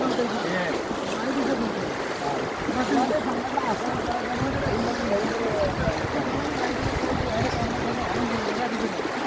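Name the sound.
rushing floodwater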